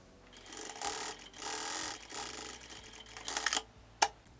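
A sewing machine stitches a seam along the edge of fabric for a small fabric backpack, running in several short bursts with pauses and a sharp click near the end, fairly quiet.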